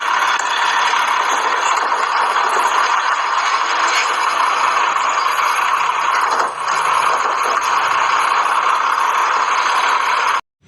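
A garbage truck rumbling loudly and steadily nearby, with a broad engine drone and mechanical rattling that holds for about ten seconds before cutting off abruptly.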